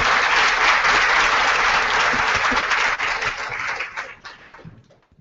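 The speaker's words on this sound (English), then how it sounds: "Big round of applause for our panelists," Sustained audience applause for business panelists at a women's business panel in San Francisco, loud and dense from the start, then thinning and fading out over the final second.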